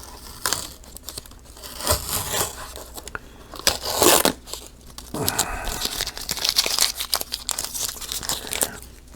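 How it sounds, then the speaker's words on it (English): Tape peeled slowly off a 1/48 scale Monogram C-47 plastic model fuselage, giving close crinkling and tearing with a longer sticky rip midway, moderately loud, with no speech. "And I'll go ahead and slowly pull this tape off."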